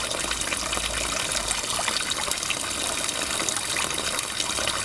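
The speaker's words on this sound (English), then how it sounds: "I might just have to alter the flow of the water" Water gushes steadily into an outdoor water barrel, a constant close hiss and splash of flowing liquid with no pauses and no voices.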